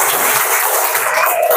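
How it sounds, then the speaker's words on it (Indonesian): Classroom applause as pupils clap together, a short, dense burst of close, loud clapping that fills the moment, with a faint voice near the end. "Tepuk tangan dulu."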